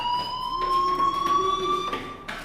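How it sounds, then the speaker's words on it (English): A fire alarm rings in the Life Is Strange video game, a sustained electronic tone with a repeating warble, moderately loud and continuous over the whole stretch. "Hey, do you hear that fire alarm?"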